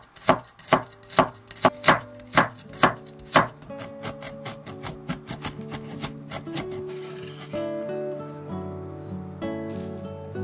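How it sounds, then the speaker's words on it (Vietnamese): Rapid, regular knife chops mincing garlic cloves on a cutting board, crisp and close at first, then quicker and softer as mincing continues, with faint music behind. "Tỏi thì mình dùng khoảng 10 tép, băm nhỏ ra như vậy."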